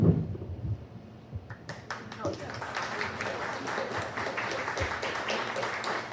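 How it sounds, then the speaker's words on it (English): Audience at a book launch clapping after an author's reading; after a quiet opening with talk, scattered claps build into steady, moderate applause from a modest crowd. "that's your applause"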